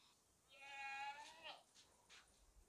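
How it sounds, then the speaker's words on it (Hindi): A sacrificial male goat at a livestock market gives one loud, close, drawn-out bleat lasting about a second, followed by quiet. "ज़बरदस्त है बकरा।"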